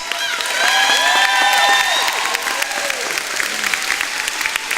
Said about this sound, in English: can we give one more huge round of applause to the 3 senior advisors